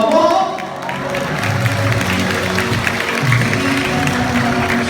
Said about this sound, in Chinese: 您满满的掌声代表你满满的祝福，好不好？